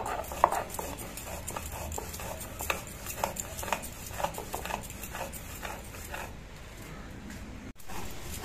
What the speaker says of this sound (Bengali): মশলাটা আমি জল ছাড়া শুকনো শিলে গুঁড়ো করে নিচ্ছি।